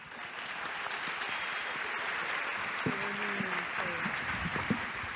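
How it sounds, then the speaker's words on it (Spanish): An audience applauds panelists at a WW4W Cali 2025 panel on masculinity, steady moderate clapping across the room, with a brief tonal sound and faint voices mixed in midway. "señoras y señores, un aplauso por favor"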